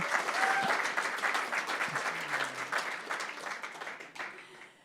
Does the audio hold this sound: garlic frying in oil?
no